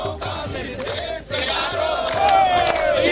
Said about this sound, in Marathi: गाणं गाऊन जल्लोष केला